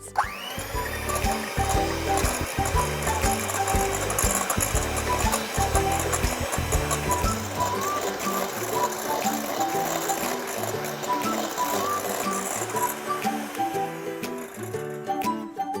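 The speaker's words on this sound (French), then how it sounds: "Donc on va mixer jusqu'à blanchiment de la pâte." An electric mixer whirs steadily through pistachio and orange-blossom cake batter, a continuous loud motor drone with rattling beaters that runs the whole time and shifts slightly in pitch near the end.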